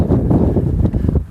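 Strong wind sweeps across wide open farmland plains, buffeting the microphone with a loud, continuous low rumble and uneven gusts.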